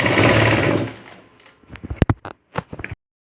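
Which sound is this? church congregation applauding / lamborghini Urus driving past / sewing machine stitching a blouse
sewing machine stitching a blouse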